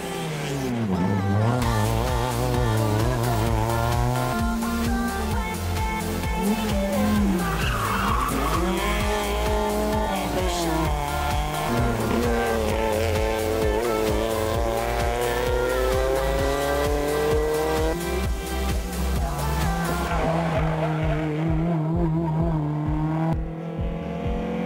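A GT-category race car driven hard on a 50 km event course roars continuously near and loud, its engine note rising and falling through gear changes while tires squeal and skid through corners, with no talk.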